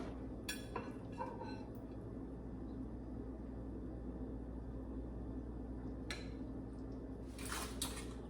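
Air-fried chicken parmesan is set onto a plate over thin spaghetti in a white wine garlic butter sauce, heard as a few faint clinks and taps of utensils and plate amid quiet kitchen background.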